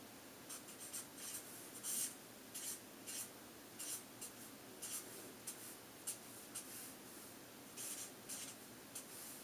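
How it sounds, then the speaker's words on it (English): Numbers are written out by hand in a series of short, quiet scratching strokes with brief pauses between them, close and alone. "So let me write those out to the side on each of these so you can see them."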